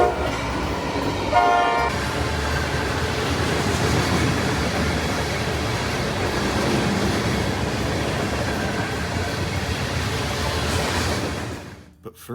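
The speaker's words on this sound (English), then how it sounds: "Gotta get on the train somewhere." An Amtrak train rumbles past loudly and steadily near Waterloo, Indiana, with a brief horn blast early on, a continuous rolling roar of rail cars, and an abrupt drop to quiet at the end.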